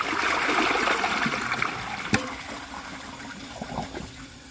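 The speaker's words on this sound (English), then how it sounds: "So I'm going to hold the handle for another flush" A 2021 Mansfield Denali toilet flushes with the handle held down for an extended flush, giving a steady rush and gurgle of draining water that stays fairly loud throughout, with one sharp clunk near the middle.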